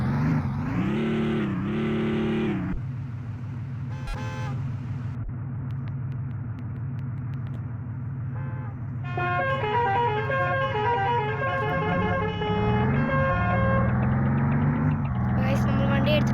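A Wayanad bus sounds a loud, sustained horn blast, then its engine hums steadily as it pulls away, with music playing over the drone and a voice speaking briefly.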